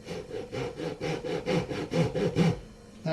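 A hand saw cuts a strip of wood, likely maple, while binding is prepared for a tenor ukulele, about ten even back-and-forth rasping strokes, close and steady, then the sawing stops.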